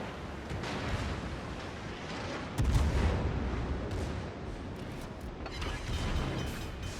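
Battleship gun shells fire in World of Warships as a deep naval battle rumbles with booming impacts, a sharp heavy blast surging partway through over continuous low roar.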